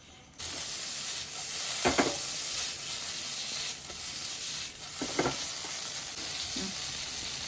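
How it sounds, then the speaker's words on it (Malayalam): Chicken pieces frying on high flame in a pan for homemade shawarma, a steady close sizzle with occasional louder crackles and stirring scrapes, no talking. "നല്ല ഫ്രൈ ആയി വന്നിട്ടുണ്ട്"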